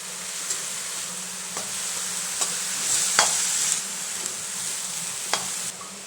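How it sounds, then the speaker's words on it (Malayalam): Banana flower with salt is stirred in a hot pan during a stir fry. A soft, continuous sizzle is broken by several distinct scraping strokes from the spoon at uneven intervals, close up and without talk. "വാഴക്കൂമ്പിലും കുറച്ച് ഉപ്പ് ഇട്ട് കൊടുത്തതിന് ശേഷം നന്നായി ഇളക്കി കൊടുക്കാം"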